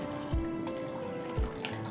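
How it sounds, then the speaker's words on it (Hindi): Milk poured into a bowl for homemade curd, a short, close liquid stream with a couple of soft splashes, heard alone. "दूध को बोल में डालेंगे।"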